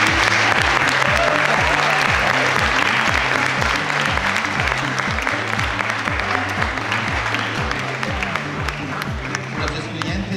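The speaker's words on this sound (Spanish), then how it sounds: "un aplauso para los estudiantes" Loud, sustained applause from a university audience cheering its students at a welcome event, steady throughout with a low rhythmic pulse beneath the clapping.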